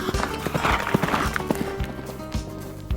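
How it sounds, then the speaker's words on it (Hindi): A horse galloping, its hooves clopping in a quick, uneven rhythm at close range alongside some rustling and movement, continuing through the whole stretch with no talking. "उमाकांत अपना घोड़ा दौड़ाकर निकल जाता है।"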